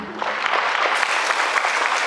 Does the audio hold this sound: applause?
yes